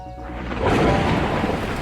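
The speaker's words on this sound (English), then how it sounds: "the heavens opened up, unleashing torrential rain." In a video game, a low rumble of thunder swells into a heavy, roaring downpour of torrential rain that quickly builds to full loudness and holds steady.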